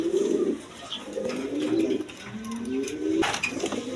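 Pigeons offered for sale coo close by in a series of low, throaty, rolling calls, several overlapping phrases across a few seconds with light background noise.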